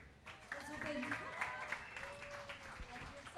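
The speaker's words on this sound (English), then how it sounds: "Can we have one round of applause, guys?" Faint audience applause at a Hindi film song launch event for Jazbaa, a soft steady patter of clapping with voices talking over it.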